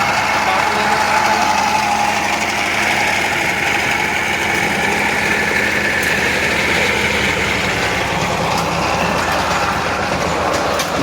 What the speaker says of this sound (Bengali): এই পাওয়ার টিলারের গাড়িটা চলে আসছে